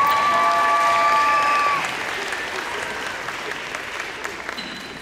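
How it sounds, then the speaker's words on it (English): Audience applause for a senior at a high school volleyball senior night, a dense wash of clapping from a large crowd that rings loud for about two seconds, with a whistle-like tone, then eases to a steadier, quieter clatter. "Please give a second round of applause for Ms."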